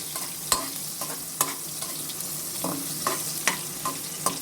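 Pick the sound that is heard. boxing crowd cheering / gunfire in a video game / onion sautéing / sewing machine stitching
onion sautéing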